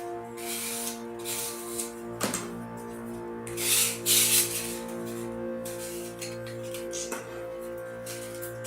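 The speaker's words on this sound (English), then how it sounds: "Sand slightly the edges to smoothen the" The edges of a laminated model airplane wing for a Tuffbirds Tuffstar trainer being lightly sanded, soft close rubbing strokes over a steady background hum, with a couple of sharp taps.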